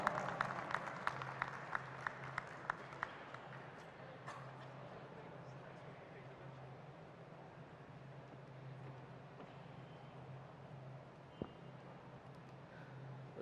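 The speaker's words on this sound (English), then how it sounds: "Please welcome on stage with a big round of applause." Clapping from an audience at a startup pitch event as a founder is welcomed on stage, sharp claps at first thinning into a lighter, steady patter of applause with a faint voice underneath.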